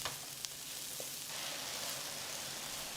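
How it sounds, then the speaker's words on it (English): Fresh mushrooms with a pinch of Italian mixed herbs stir-fry in a pan, giving a steady, even sizzle with a few faint scrapes of stirring. "add in your favorite fresh mushrooms and a pinch of Italian mixed herbs and continue to stir fry"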